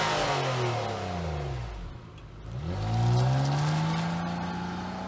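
A 3.5-liter V6 engine in a 2019 Nissan Maxima SR producing 300 brake horsepower revs hard, its pitch dipping briefly between pulls before climbing again in a loud, continuous growl.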